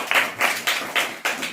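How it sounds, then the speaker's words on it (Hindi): Classroom children clap for their classmates in a few short bursts, each rising quickly and fading, with brief gaps between them and no talking. "ताली बजाइए इन लोग के लिए भाई।"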